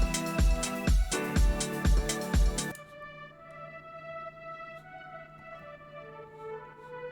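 Dry Augmented Brass synth with no effects: a run of punchy, evenly spaced brassy stabs, then a long held tone that rings out and fades, close and moderately quiet with no voices.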